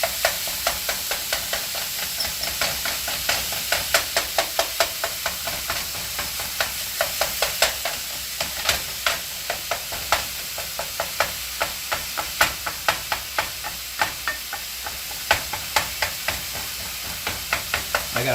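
Food fries in a very hot pan, building crispy brown bits, with steady sizzling and a dense run of sharp crackles and pops throughout, close and fairly loud, no talking.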